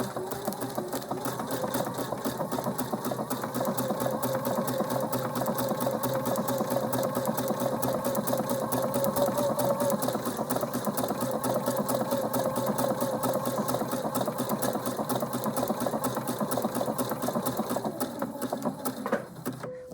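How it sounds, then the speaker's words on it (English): A Viking sewing machine stitches a buttonhole, running as a steady, continuous mechanical whir with a rapid needle rhythm, close and even for the whole stretch before stopping abruptly at the end. "Then I'm going to keep sewing."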